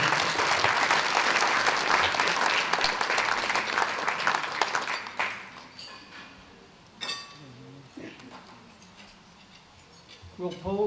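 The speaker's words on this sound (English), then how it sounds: "Please, another round of applause for Mervyn Eades." Loud sustained applause from a dinner audience at a human rights award ceremony, honouring recipient Mervyn Eades, fills the room for about five seconds, then fades to scattered claps, clinking tableware and quiet murmuring.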